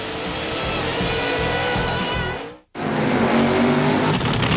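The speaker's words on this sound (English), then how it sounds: "It's a Pro Mod shootout with the fattest blown alcohol bandits." Pro Mod supercharged alcohol drag race cars, fat blown alcohol-burning engines, roar loud and close in a continuous full-throttle blast for over two seconds, drop out abruptly to silence, then a second engine bellows back in just as loud.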